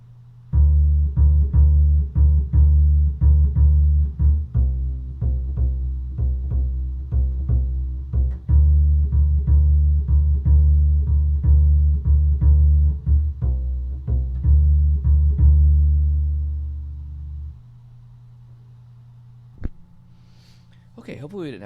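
A bass guitar plays a pizzicato passage from Ships of Ireland, a steady run of plucked low notes with clear, evenly spaced attacks, loud and close, ending in a sustained note and then near silence.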